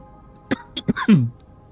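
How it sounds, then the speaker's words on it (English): A short burst of several coughs, close and moderately loud, followed by a throaty rasp. "my coughing gets worse"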